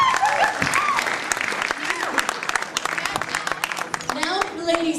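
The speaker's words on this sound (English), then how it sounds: "Let's give our first one a great round of applause." Applause at a steampunk fashion show as a model walks, a crowd of hands clapping steadily with scattered whoops and voices mixed in, lively throughout.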